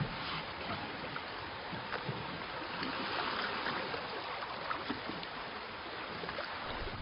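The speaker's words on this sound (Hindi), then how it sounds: "चप्पू पानी के अंदर।" Oars paddle a boat through water, a steady wash of splashing and sloshing that runs throughout, moderately loud and close, with no talking.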